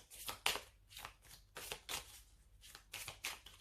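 Oracle cards being shuffled and drawn for a reading, a series of crisp riffling and flicking bursts in irregular spurts, close and fairly quiet, with no talking.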